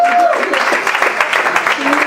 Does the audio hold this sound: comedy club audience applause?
yes